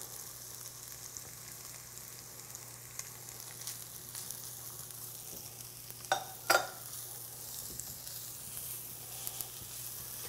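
Corn and half a red onion sizzling in coconut oil for a crab dip, as a faint steady hiss with a couple of brief louder clinks or stirs near the middle.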